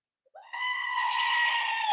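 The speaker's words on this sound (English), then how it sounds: "Let's do a screaming goat." A goat screams in a single loud, sustained, wavering bleat that starts abruptly and holds for over a second, heard alone.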